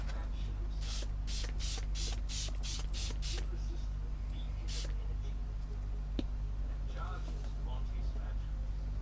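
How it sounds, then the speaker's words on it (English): A rapid burst of several quick spray-bottle squirts, then a single squirt a moment later, over a steady low hum. "how then this is going to react when I spray some water on it."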